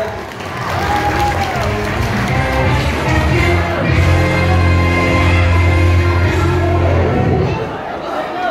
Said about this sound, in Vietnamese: Xin quý cộng đoàn cho một tràng vỗ tay ạ.